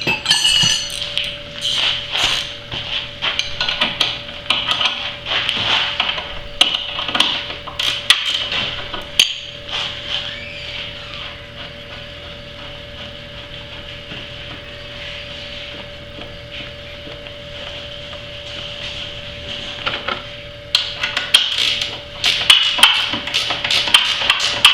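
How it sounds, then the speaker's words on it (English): Bolts on a VW Beetle lower ball joint are tightened with metallic clicks, taps and clinks of tools on steel, scattered irregularly over a steady low mechanical hum. "I'm going to go ahead and tighten these other two bolts up."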